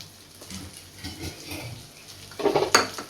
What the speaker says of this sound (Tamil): இப்போ நல்லா வதக்கி விட்டுப்போம்